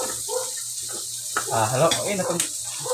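Garlic and onion sizzle steadily in hot oil in a pan for Filipino pork humba, a continuous close crackle with stirring scrapes, while a person talks over it.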